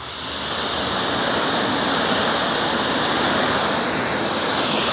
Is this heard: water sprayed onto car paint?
yes